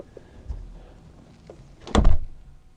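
A door thuds as a resistance band is slipped underneath it: a soft knock first, then one louder, solid thunk with a brief rattle, in an otherwise quiet room.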